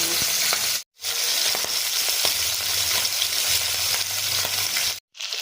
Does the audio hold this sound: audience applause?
no